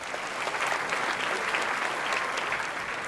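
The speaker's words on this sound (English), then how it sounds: "Let's give Michael a round of applause." Audience applause at an MS symposium, a steady wash of clapping from a crowd lasting a few seconds, moderately loud and even, with no speech over it.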